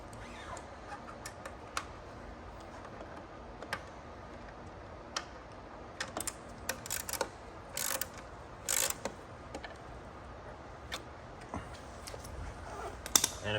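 Ratchet tightening a pivot bolt on a full suspension mountain bike, sparse clicks and short ratcheting bursts, quiet and close, alone with no talking.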